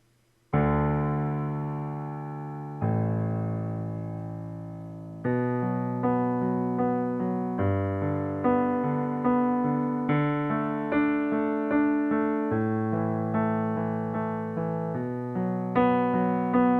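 A piano plays the left-hand part of a piece alone: slow, close, ringing low notes struck one after another, each left to sustain and fade before the next.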